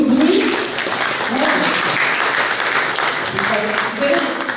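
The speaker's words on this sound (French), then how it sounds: "vous m'applaudissez" Audience applause in a French public talk on local government finances, a steady broadband wash of many hands clapping at moderate loudness with voices mixed in throughout.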